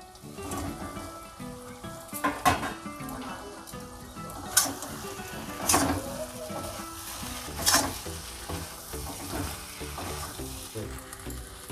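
Fried cauliflower pakoras tip into a hot pan of sugared sauce, sizzling and crackling steadily up close while a spoon scrapes and clatters against the pan in several sharp strokes; a voice speaks faintly underneath.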